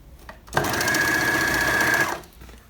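A Bernina L450 overlock machine stitches a scarf-weight fabric at a very short stitch length. Its fast, steady whirring runs loud and close for about a second and a half, then stops, with no talking.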